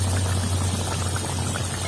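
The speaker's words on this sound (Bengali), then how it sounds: "আমি অনেকক্ষণ ধরে মাংসটা জাল দিচ্ছি, এবার দেখি ঢাকনাটা খুলে কিরকম হয়েছে।" Chicken curry simmers in a pot with the lid lifted, a steady low bubbling and gentle hiss running continuously at close range with no talking.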